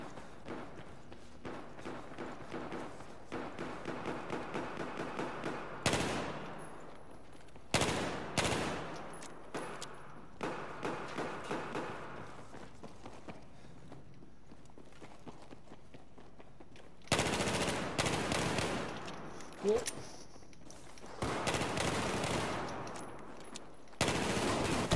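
Shotgun and pistol gunfire in a video game gun game match, sharp bursts of shots that come in clusters with quiet gaps between them, some rapid and loud, alongside footsteps.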